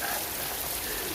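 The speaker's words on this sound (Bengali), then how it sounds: "বৃষ্টি হইতেছে, আর বৃষ্টির সাথে ধুম বরফ পড়তেছে" Rain mixed with ice falling steadily, a dense even hiss and patter that holds at a constant level for the whole brief moment.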